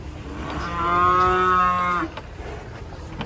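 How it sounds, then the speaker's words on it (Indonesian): A big black cow being unloaded gives one long, loud, close moo lasting about a second and a half over faint background noise, followed by some thuds and clatter. "Penurunan sapi monster hitam guys ini guys, mantap ini."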